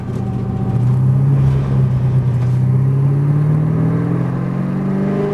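A Rob MC Motorsport V8 race car on track, its engine a loud close rumbling drone that climbs steadily in pitch as it accelerates, with no voices over it.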